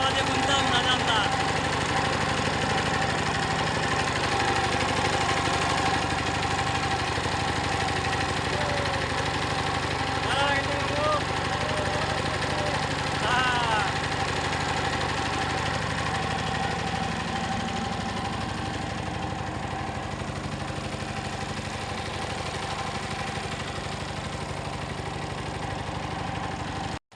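A boat engine drones steadily on the Lalakhal river in Sylhet, a continuous mid-pitched motor hum with faint knocking that runs unbroken throughout. A voice talks over it.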